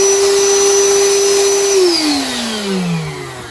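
A Bauer 20V cordless 7-gallon wet/dry vacuum runs loud and close with a steady motor whine, then the pitch drops partway through as the motor labours or settles.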